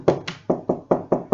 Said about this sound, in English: Came a knock at the door.